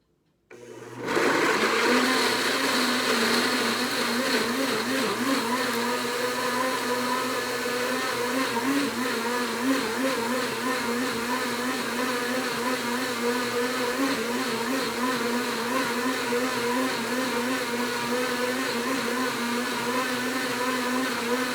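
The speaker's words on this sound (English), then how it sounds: "Let me turn on my blender here, and it's gonna be loud" A blender purees roasted red pepper gazpacho, running loudly and steadily from start to finish, a harsh motor whine with a wavering pitch and no voices.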